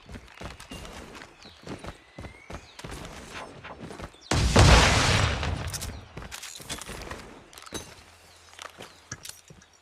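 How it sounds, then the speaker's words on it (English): A flashbang grenade goes off in Call of Duty Mobile, a single loud burst that fades over about two seconds amid scattered footsteps and clattering gameplay noise. "Flashbang! Grenade!"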